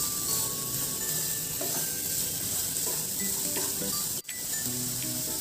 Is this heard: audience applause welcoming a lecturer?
no